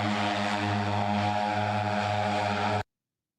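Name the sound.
Jetson One personal electric helicopter flying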